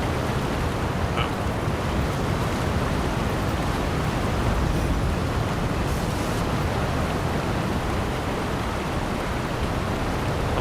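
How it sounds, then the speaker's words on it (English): A waterfall in the video game Dragon Age: The Veilguard roars as a loud, constant broadband rush, steady throughout with no breaks. "I like how loud the waterfall is."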